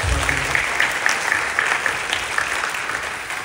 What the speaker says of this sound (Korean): 우리 박수로 격려해 주시죠